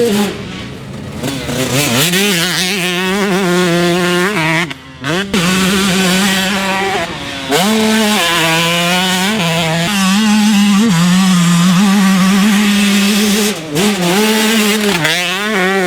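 A Yamaha YZ134 two-stroke motocross bike engine revs hard and continuously, its pitch climbing and falling through repeated throttle blips and gear changes, loud and close with a raspy buzzing tone.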